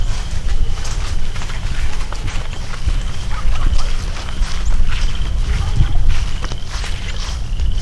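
Footsteps crunch and shuffle outdoors across rough ground, walking out toward a shotgun pattern target, with a steady rhythm over constant wind and background noise.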